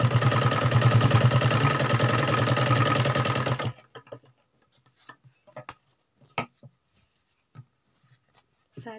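A sewing machine whirs steadily while stitching a suit, then stops, leaving quiet handling clicks and rustles of fabric.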